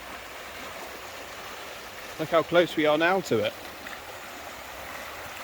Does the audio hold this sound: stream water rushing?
yes